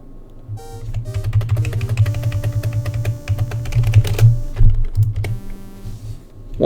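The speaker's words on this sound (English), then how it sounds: "that's like the only true keyboard pounding I do in the game" Rapid, hard keyboard pounding during a Quest for Glory speedrun, dense clattering keystrokes hammering away for several seconds over in-game music and effects, loud and close.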